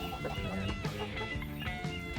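Thai chabo chickens clucking in a farm coop, a dense overlapping chorus of close, steady clucks and chatter from several birds.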